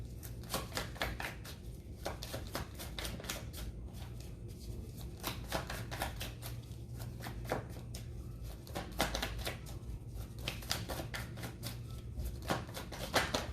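Tarot cards being shuffled and drawn, a steady stream of crisp, rapid riffling flicks that continues close up and alone for the whole stretch.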